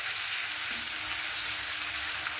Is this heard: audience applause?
no